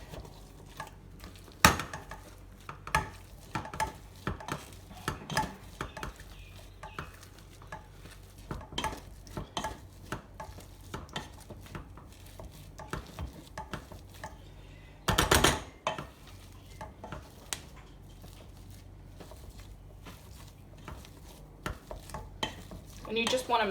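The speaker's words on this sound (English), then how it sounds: "Now that I've drained my potato, I'm going to mash it up with my trusty potato masher." Boiled, drained potatoes mashed in a metal pan with a potato masher for shepherd's pie: a steady run of close, irregular clanks, scrapes and soft squelching taps, with a brief louder clatter partway through and no talking.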